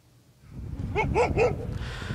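Stray dogs in the Kulob region barking several times in quick succession, a close, clear run of three or four yelping barks over a low rumbling outdoor background.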